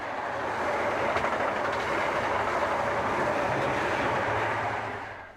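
A British Rail HST high speed train running past, a broad steady rushing roar with faint rhythmic wheel clatter that swells and holds before tapering off at the end.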